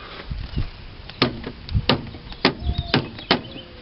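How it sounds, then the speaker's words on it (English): A series of sharp mechanical clicks and thunks, about six in quick uneven succession, as the power door locks of a 1987 Toyota 4Runner actuate nearby. "my door locks work now"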